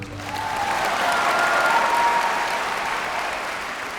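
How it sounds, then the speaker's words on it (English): Deafening applause from a large audience after a violin performance, a dense wash of clapping that swells quickly, holds loud and steady for several seconds, then eases slightly, with no voices on top. "Every time the two of them finished a performance, the applause was deafening."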